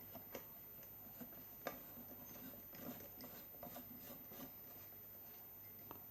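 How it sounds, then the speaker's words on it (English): A 160 watt self-ballasted Luxram mercury vapor bulb being screwed into a lamp socket gives faint scraping and rubbing with scattered small ticks and clicks, quiet and close, with no talking. "I'm gonna fit this bulb into the socket now"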